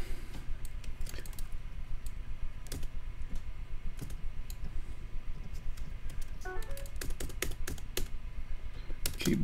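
Someone types on a computer keyboard with a faulty response, close and fairly loud; rapid irregular clatter of keystrokes with scattered sharper clicks and brief pauses, no talking.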